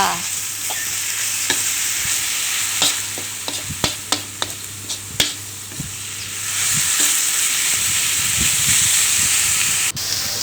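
Chicken cartilage and pickled bamboo shoots stir-fry in a spicy sauce, with a loud steady sizzle and hiss broken by the sharp scrape and clack of a utensil against the pan.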